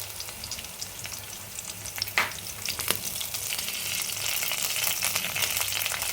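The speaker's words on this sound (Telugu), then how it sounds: "కరివేపప్పు చక్కగా వేయించాలి" Chana dal, urad dal, mustard seeds and dried red chillies fry in hot oil for a cauliflower curry, a steady close sizzle with a couple of sharp pops and stirring clinks, no speech.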